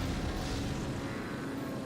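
Airplane engine drone in the Nightfire video game, a steady broadband roar with a low hum that holds at an even level throughout, with no voices over it.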